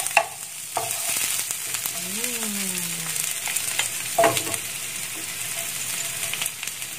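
Red chilies and scallions stir-fried in a pan after garlic for scrambled eggs: a loud continuous sizzle broken by repeated scraping strokes of a utensil, close up and without talk.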